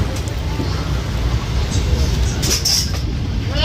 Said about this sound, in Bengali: আমাদের ট্রেন এই রাজচন্দ্রপুর রেলওয়ে স্টেশন থেকে ছেড়ে দিয়েছে